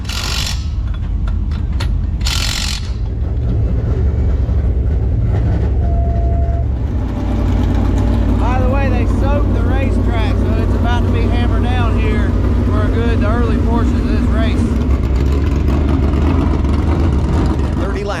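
Dirt late model race cars at Swainsboro Raceway roar on the throttle in a loud, sustained engine drone, with rising and falling pitch sweeps from several cars, under crowd and announcer noise.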